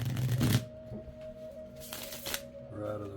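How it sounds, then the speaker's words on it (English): Tarot cards being shuffled, a crisp riffling burst at the start and another brief flurry a little later, close and fairly quiet over soft background music. "Maybe one more shuffle."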